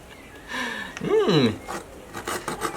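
A bare hacksaw blade cuts into a calabash gourd in a few quick, close rasping strokes, with a brief vocal sound over the sawing.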